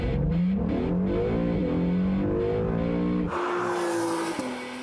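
A sports car engine revs hard in launch mode and climbs steadily in pitch, then shifts abruptly into a higher, roaring pull as it accelerates away from a launch-control start, loud and close.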